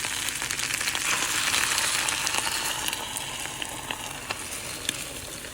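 Butter and egg sizzle and crackle steadily in a hot pan beside pastrami, a dense bright frying hiss with scattered pops, close and alone with no talk.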